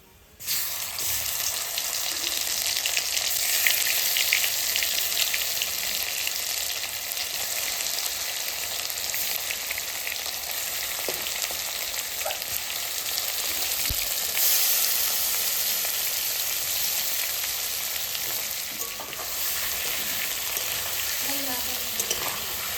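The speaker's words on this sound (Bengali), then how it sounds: "এবার আমি মাছগুলো ভেজে নেবো" Fish frying in hot oil over a tempering of nigella seeds and dried red chillies: a dense, steady sizzle that runs unbroken and loud throughout, with faint stirring knocks now and then.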